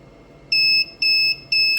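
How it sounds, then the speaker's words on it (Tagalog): A coin-operated cigarette vending machine with a coin changer gives three loud, evenly spaced electronic beeps after its button is long-pressed to enter price setting, each tone about a third of a second, over a quiet room hum. "Pag may narig kang tatlong beep na ganun, means, pwede mo nang i-setting"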